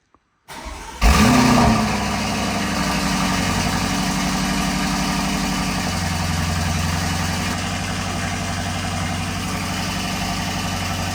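A Porsche GT3 RS engine, just repaired, cranks and catches on a cold start with a loud burst, then settles into a steady, rough idle that holds close and strong to the end.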